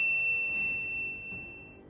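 A single bright notification bell ding rings out at the start and sustains as a clear, pure tone, slowly fading with faint shimmering overtones.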